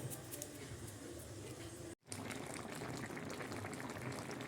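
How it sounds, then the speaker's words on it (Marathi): Water boiling in a pot while shengole are being cooked in a home kitchen, a faint, steady bubbling hiss broken by a brief dropout, with no talking. "तोपर्यंत पाणी उकळत आहे."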